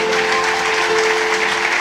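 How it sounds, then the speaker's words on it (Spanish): Applause from a church congregation during a Spanish-language sermon, a steady dense wash of clapping filling the whole moment, with a faint sustained tone running underneath. "No sé si puede darle un buen aplauso al Señor."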